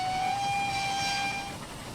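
Steady tonal whistle of a J70 tram engine in Train Simulator, held for about a second and a half over a soft hiss of steam, fairly loud and close, then tailing off.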